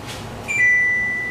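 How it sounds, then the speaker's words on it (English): A single high electronic beep from an oven finishing preheating sounds sharply, then holds as a steady tone that slowly fades, loud and close in a quiet room. "Our oven's beeping."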